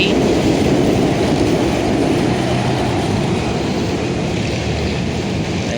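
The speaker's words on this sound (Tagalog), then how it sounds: "So tuloy naman ang biyahe ng LRT." A light rail train rumbles past steadily, a continuous heavy roar of wheels and motor filling the whole stretch, with no talking.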